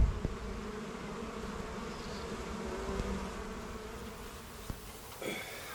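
A steady, droning hum of buzzing bees fills the air, continuous and fairly faint, with a few soft knocks and no voices.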